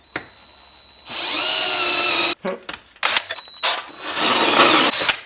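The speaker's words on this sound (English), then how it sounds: "If I can drill this thing, I'm very hopeful." A power drill whines loudly as it bores a 1/4-inch hole into metal, the pitch straining and sagging, with brief pauses and clicks between bursts.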